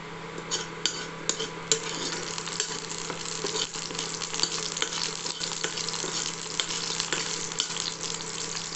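Curry leaves fry in hot oil for veg pulao, a steady close sizzle with scraping stirs and a few sharp clinks of a utensil against the pan near the start. No one speaks.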